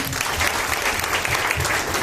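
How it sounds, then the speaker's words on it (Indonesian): Audience applause for a woman being honoured at a motivational insurance-agency gathering, a steady dense patter of many hands sustained throughout, fairly close and even in loudness. "Tepuk tangan untuk Ibu Novi."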